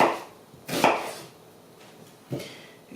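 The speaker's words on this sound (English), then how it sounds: "So I'm just gonna slice up the onions into fairly small pieces, appropriate for sautéing." Onions are sliced into small pieces on a cutting board, with a few separate knife strokes close by, each a short crisp chop against a quiet background.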